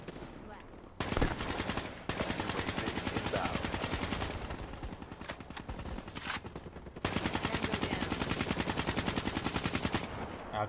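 Rapid automatic gunfire in Call of Duty Black Ops 3 multiplayer, dense, loud bursts running almost continuously with brief gaps.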